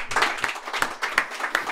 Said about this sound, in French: Je pense que ça mérite une main d'applaudissement.